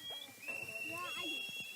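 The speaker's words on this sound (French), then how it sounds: "le son glaçant des sifflets de gilets de sauvetage" Shrill life jacket whistles blown on a migrant boat adrift at sea in the dark, a thin sustained high tone with faint voices underneath.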